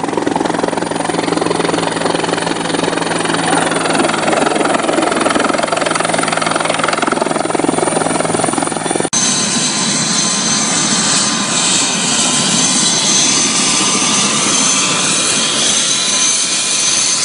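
Forestry Corps rescue helicopter on a snow emergency mission atop Pietralata near Cagli, its loud, close rotor and turbine roar filling the whole stretch continuously, with an abrupt change in tone midway.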